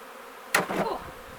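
Honey bees in an opened hive, a faint background hum that breaks into a sudden sharp burst of buzzing, then trails off into a softer drone.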